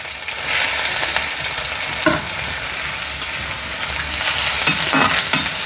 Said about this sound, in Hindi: और अब इसमें डालेंगे ये कटा हुआ प्याज